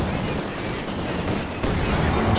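Machine gun fire rattles through a Company of Heroes 2 battle, with dense overlapping bursts and shots packed into a continuous, rough wash of gunfire at moderate volume.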